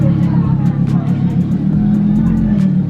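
A Lamborghini Huracan pulling up nearby, its engine giving a deep low rumble that holds steady and then shifts, with someone talking over it the whole time.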